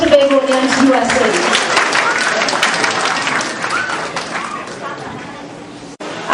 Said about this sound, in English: So please, a round of applause to the Trinidadians and Tobagonians, U.S.A.